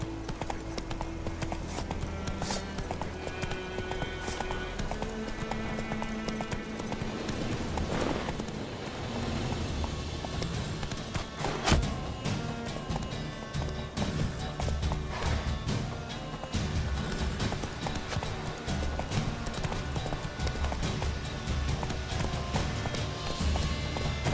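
Roach, the horse in The Witcher III, gallops with a steady, continuous clip-clop of hooves over a dense game soundtrack, with an occasional whinny and a brief crash midway.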